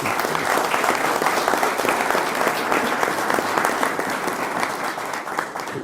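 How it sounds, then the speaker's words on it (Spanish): Loud, sustained applause from a crowd, dense clapping filling the whole stretch without a break. "Fuerte el aplauso."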